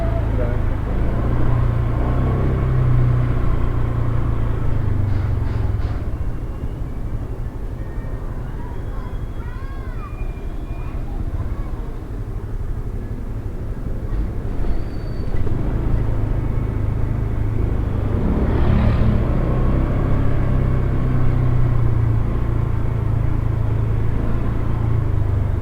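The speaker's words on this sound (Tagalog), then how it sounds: "Uy, traffic, daming" Heavy road traffic with many vehicles on the drive from Montalban toward North Fairview: a steady, close engine rumble fills the whole stretch, with occasional vehicles swelling past and faint engine revs.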